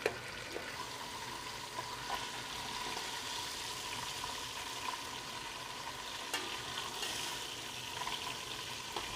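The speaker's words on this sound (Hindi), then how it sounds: "इसी तरह हम सारी मछली फ्राई कर लेंगे तेज़ आंच पे।" Fish fries in oil over high heat, a dense steady crackling sizzle filling the whole stretch with occasional faint taps.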